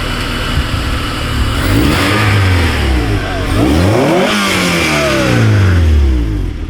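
A 2002 Honda Civic Si EP3 with a Neuspeed exhaust revs repeatedly, the engine note rising and falling in loud, close sweeps over a steady idle rumble, with no talk.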